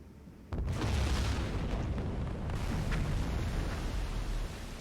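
Torpedo strike exploding against a ship in the submarine game Silent Hunter 3, a sudden deep boom followed by a long, heavy rumbling roar that holds steady for several seconds at a moderate distance.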